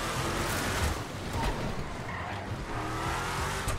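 A car drifts in the GTA 5 video game, its tires squealing continuously over a revving engine, loud and close throughout.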